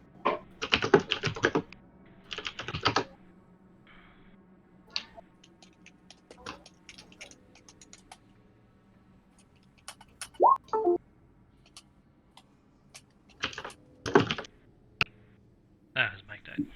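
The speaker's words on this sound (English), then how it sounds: "I can still hear you typing." Bursts of rapid clacking on a computer keyboard separated by quiet pauses, with a few isolated clicks, and people talking at times in the background.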